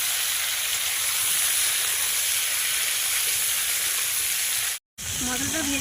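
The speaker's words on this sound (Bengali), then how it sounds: "গোটা গোটা সবজিটা ভালোভাবে ভাজতে হবে" Whole vegetables frying in a pan for gota seddho make a steady, loud hiss and sizzle throughout, briefly cut off near the end before a voice begins under the frying.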